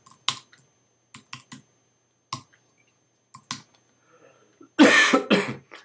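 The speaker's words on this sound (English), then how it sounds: "here I type the title" Sparse keystrokes on a computer keyboard enter a track title, scattered clicks over a few seconds, ending in a louder cough-like burst near the close.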